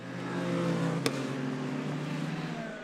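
LMP2 prototype race cars at Imola in the 4 Hours of Imola endurance race, one slipstreaming past another down the straight: a steady, loud engine drone from a distance with one brief sharp click partway through.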